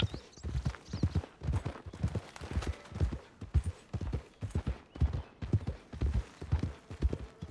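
Rhythmic clip-clop of horse hooves at a steady trot in Red Dead Redemption 2, close and continuous, with no talking.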